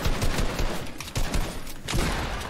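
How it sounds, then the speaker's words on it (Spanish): Dense bursts of gunfire in Fortnite crackle loudly in rapid clusters, several volleys overlapping with short gaps between them. "es que yo soy el único que sigue disparando"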